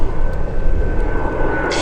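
Jet trainer engine roaring steadily at an air show, a 1963 design built to double as a ground attack aircraft; the loud, continuous drone fills the whole moment without a break.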